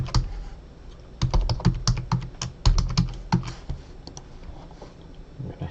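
A password being typed on a computer keyboard, with quick close bursts of key clicks in uneven runs separated by brief pauses.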